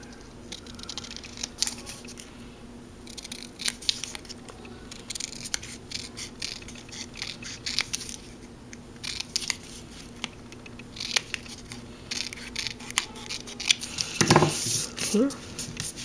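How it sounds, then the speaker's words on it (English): Scissors trimming a small paper shape for a layered greeting card, quiet intermittent snips and paper rustles close by, with a louder burst of handling near the end. "I think I'm going to cut this little shape out a little bit more."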